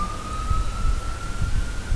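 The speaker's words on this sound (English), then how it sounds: "Ambulance." A steady wailing siren tone holds a single pitch, fairly distant, over low rumbling traffic noise.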